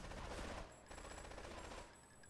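A rapid burst of gunfire from a gun in the video game GTA III, fairly faint, as a quick string of shots lasting about two seconds.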